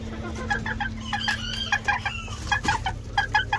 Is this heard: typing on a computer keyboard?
no